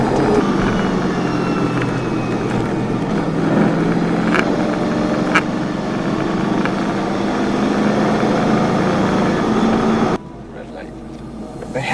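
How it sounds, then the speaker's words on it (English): A Trans Am WS6 with an LS V8 drones steadily through a canyon run, a broad engine and road roar filling the cabin under conversation, then dropping abruptly in level near the end. "it's LS torquey motor"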